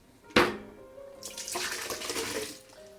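Pumpkin and sweet chilli soup is poured into a soup maker, giving a splashy liquid pour after a sharp knock, close and moderately loud with no talking.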